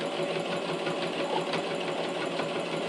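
A sewing machine stitches through thick layers, two fabric layers with batting, in a steady, fast mechanical whir with rapid needle ticking, close and continuous with no talking.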